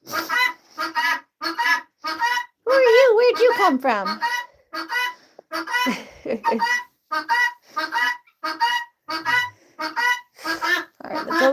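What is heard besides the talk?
chicken clucking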